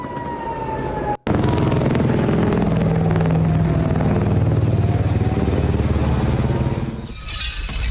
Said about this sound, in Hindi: ये देखिए, फायरिंग की गई और उसके बाद इसको मार गिराया गया।